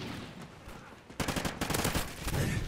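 Silenced light machine gun firing in a first-person shooter game, with a quiet stretch giving way to a rapid, sustained burst of muffled shots, fairly faint overall and without speech.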